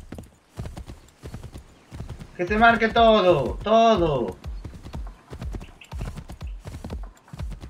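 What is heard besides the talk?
horse hooves galloping in video game Assassin's Creed III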